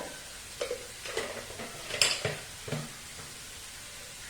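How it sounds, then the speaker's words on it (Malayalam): Turmeric, chilli and garam masala powders fry in a pan while a spoon stirs and scrapes, giving a handful of short clinks and a soft sizzle underneath, quiet and close, with no talking. "ഈ പൊടികള് ഇതിൽ കിടന്നിട്ട് നന്നായിട്ടൊന്ന് മൂത്ത് വരണം."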